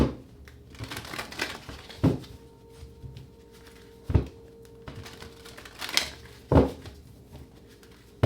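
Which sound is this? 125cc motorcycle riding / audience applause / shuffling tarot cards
shuffling tarot cards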